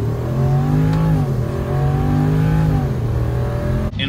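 A RAM 1500 pickup truck engine with an aftermarket cam and stall converter roars close by as it accelerates hard in four-wheel drive, its pitch climbing steadily through a gear and then climbing again.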